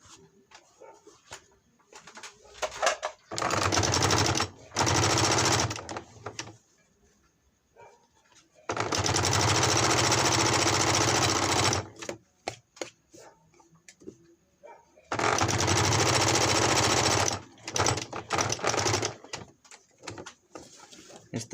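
A Janome embroidery sewing machine stitching a patch runs in three loud, close bursts of steady whirring stitching a few seconds each, separated by quiet handling and clicks, with no talking.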